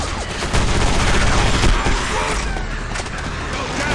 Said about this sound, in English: Who's shooting at me?